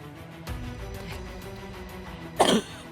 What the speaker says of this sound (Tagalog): Ubo na ako mga kaiba.